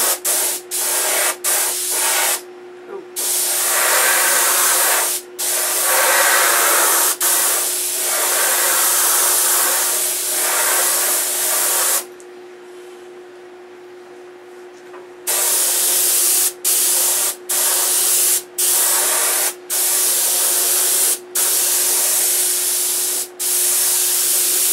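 A compressor-fed spray gun paints a P-47 aircraft model in loud close bursts of hissing spray, several long passes broken by short gaps, with a quieter stretch midway and a run of brief rapid bursts near the end.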